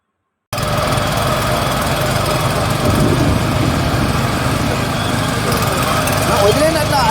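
A Weima 7 HP four-stroke petrol power weeder runs steadily at close range, a continuous loud engine drone with no breaks.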